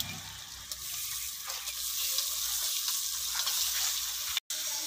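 Rabbit meat hits a hot pan of softened tomatoes and sizzles loudly, a close, steady hissing fry with light stirring scrapes, broken by one brief cut near the end.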